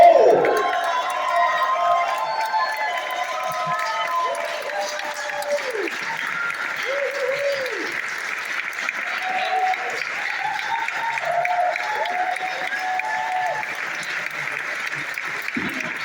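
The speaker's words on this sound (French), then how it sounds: "Alors, on peut applaudir avec 15 ans et 20 ans d'application pour Roselyne et Antoinette chez Maison de cœur." Applause from guests at an anniversary cocktail honouring two long-serving staff, steady clapping under bursts of cheering and raised voices, with some voices carrying over the clapping.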